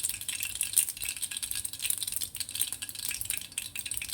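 Mustard seeds sizzle and pop steadily in hot oil in a home kitchen pan, a dense continuous crackle with scattered sharp spits, close and fairly loud, with no talking.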